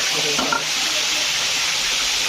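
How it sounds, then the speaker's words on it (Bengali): Turmeric- and salt-coated eggs sizzle steadily in hot oil, a close, continuous loud hiss with a brief stir near the start and no voices. "এবার ডিমগুলোকে ভালো করে দিয়ে দেওয়া হবে গরম তেলের ভিতরে"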